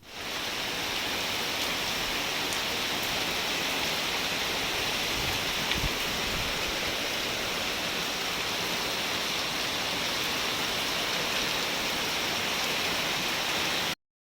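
Steady, dense rain falls throughout, a constant broadband hiss of drops with no pauses, loud and close.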